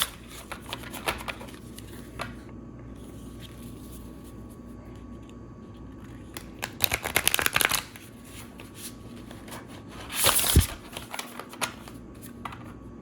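Oracle cards are shuffled close up in repeated rounds: soft handling and taps, a crisp riffling burst, then another sharp riffle and a thud.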